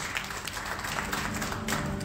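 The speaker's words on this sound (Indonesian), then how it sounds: "Berikan tepuk tangan yang meriah untuk Tuhan Yesus." Applause from a church congregation during a sermon, a dense, steady wash of many hands clapping at once, sustained loudly for about two seconds with no speech over it.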